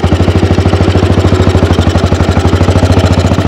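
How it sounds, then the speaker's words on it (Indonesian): A 1948 AJS 500 British single-cylinder motorcycle thumping loudly and close as it pulls away, each firing pulse sharp and evenly spaced in a fast, steady rhythm. "kita coba jalan aja nih motor tua gua asal Inggris ini"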